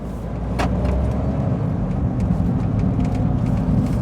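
A Smart car with a 1.0 micro hybrid drive pulling away, its engine humming low and steady from inside the cabin with a small clunk early on, and no speech.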